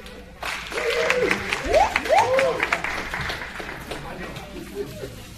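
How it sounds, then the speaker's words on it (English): An audience at a Kwanzaa celebration applauds a poet with scattered, moderate clapping while a voice speaks over it, the applause thinning out toward the end. "Round of applause, please."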